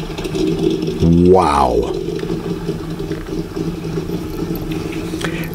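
Idling engine of a classic car, either a 1971 Corvette or a 1973 Holden, at a car show: a steady low rumble with one brief rising rev, under a man's short exclamation.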